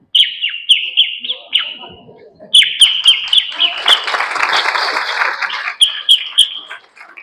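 A human voice imitates dawn birds chirping, producing rapid repeated sharp tweets in bursts, with a breathy hiss in the middle.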